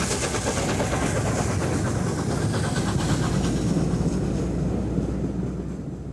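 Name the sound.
Mallard steam locomotive leaving Skipton on northbound run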